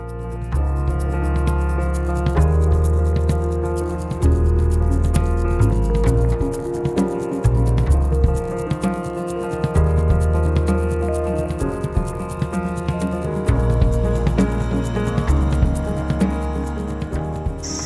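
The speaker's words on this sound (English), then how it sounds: "I'm just grinding it down as far as I possibly can" A grinder works continuously on a rusted bus window frame, grinding the metal down with a harsh, rough abrasive rasp that wavers in intensity throughout, with no talking.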